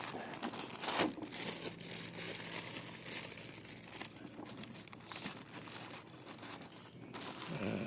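A plastic bag crinkles softly and irregularly as it is placed beneath a Mazda 2 during a windshield washer pump motor replacement, with faint rustles and small crackles throughout.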